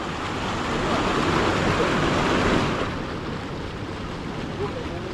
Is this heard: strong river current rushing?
yes